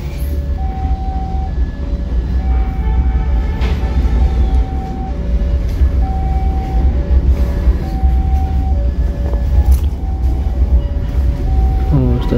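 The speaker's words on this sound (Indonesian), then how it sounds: "pada pukul 6:19 KA Siliwangi diberangkatkan kembali dari stasiun Lampegan" The KA Siliwangi passenger train departs Lampegan station, a steady loud rumble of wheels and engine close by with tonal squeals and hums running throughout, and no voices.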